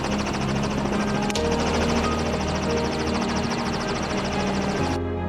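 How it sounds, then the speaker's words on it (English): A helicopter roars steadily close by, its rotor chopping in a dense, continuous drone that cuts off abruptly near the end. "Helicopters are used to observe the landscape from above"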